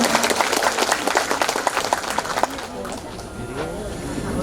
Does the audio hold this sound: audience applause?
yes